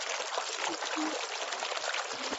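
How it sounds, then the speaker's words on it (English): Beer poured into a glass, a continuous splashing, fizzing stream lasting a couple of seconds, fairly close, with brief bits of voice in the background. "All right, pour that beer."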